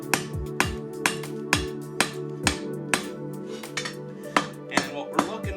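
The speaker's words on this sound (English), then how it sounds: "get it on the horn of the anvil on both sides, flatten it" Hammer blows ringing on an anvil horn while forging the tip of a Damascus blade, a dozen sharp metallic strikes in an uneven rhythm, close and clear with a sustained ring between hits.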